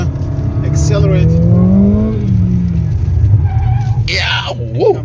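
A car accelerates through a wet corner on Continental tyres, its engine note rising and sweeping in pitch up close, with voices talking over it throughout.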